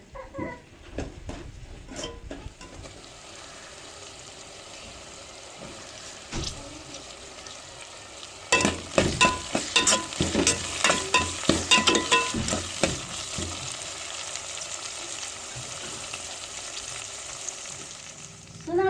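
Onion, garlic and green chilli fry in a pan as chopped tomatoes go in, giving a soft sizzle under repeated scraping and stirring strokes that grow louder and busier midway, with no talk.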